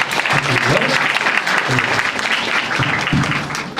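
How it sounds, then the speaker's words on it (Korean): A crowd applauds in a school chapel service, close and loud continuous clapping throughout, with a voice briefly audible beneath it. "다시 한번 큰 박수 부탁드리고요"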